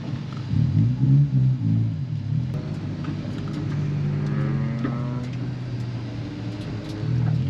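Honda Civic engine on a race track, a low steady rumble heard from inside the car that rises gradually in pitch as it revs, with a few faint knocks and no clear talk.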